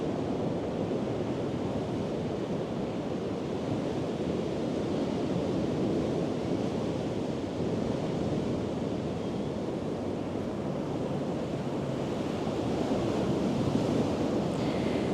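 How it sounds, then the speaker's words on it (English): Ocean surf washing in a steady, even roar, a continuous broadband rush with soft wind-like texture and no distinct breaks, heard alone without any voices. "Listening to the sound of the ocean"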